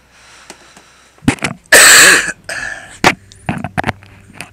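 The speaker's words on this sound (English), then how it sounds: "Sorry about the cough, guys." A person coughs during a Destiny 2 gaming session: one loud, harsh burst near the middle, with a few shorter breathy sounds and throat noises around it.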